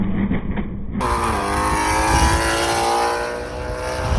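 Catless Ford Mustang GT350 with O2 spacers and no tune, exhaust roaring loud and steady as it revs, with a sudden jump in loudness about a second in and a continuous rumble afterward.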